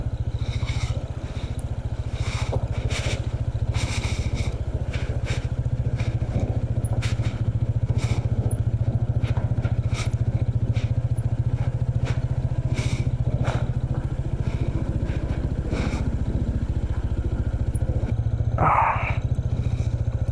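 A motorcycle engine drones steadily at close range on a mountainside road in Sagada, Philippines, with occasional rattles and bumps over potholes and rough ground.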